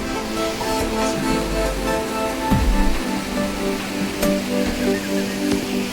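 Water pours over rocks at Jharnakocha waterfall in Purulia, a steady, full rushing roar that continues unbroken and fairly close throughout, with no voices.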